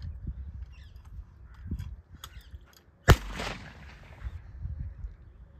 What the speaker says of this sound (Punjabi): ਰਾਖੀ ਵਾਸਤੇ ਆਪਾਂ ਨੂੰ ਪਟਾਕੇ ਵੀ ਚਲਾਉਣੇ ਪੈਂਦੇ ਆ